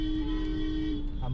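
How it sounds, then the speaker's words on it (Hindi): A single sustained toot from an auto rickshaw horn on a road in Rohini, close and steady for over a second amid background traffic rumble. "कौन है ये हॉर्न बजाया जा रहा है? छपरा। ये ऑटो।"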